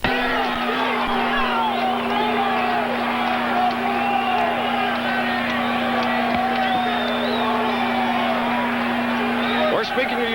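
Large crowd filling Market Square Arena in Indianapolis around a boxing ring during a middleweight bout, a steady dense din of murmuring voices and occasional shouts over a constant low hum, with talking on top throughout.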